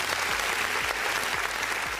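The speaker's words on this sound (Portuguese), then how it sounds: "vamos recebê-los com uma calorosa salva de palmas que o Brunão vai botar na edição." Steady applause from a group, dense clapping at an even level for the whole stretch, with no voices standing out.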